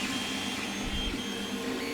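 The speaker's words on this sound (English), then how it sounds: "there's my 3D printer finishing the next print" A Hictop 3D printer hums steadily while printing, a continuous close mechanical whine with a faint low thump of stepper movement, with no speech.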